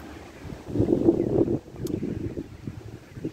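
Low, gusty wind buffeting the microphone in uneven surges, rumbling loudest in the first half, then easing to a softer blustery rush.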